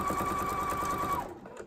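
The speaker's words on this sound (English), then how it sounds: "So you just continue sewing around that curve." A sewing machine runs steadily while attaching binding around the curved edge of a quilt, a close, even mechanical whir that stops abruptly near the end.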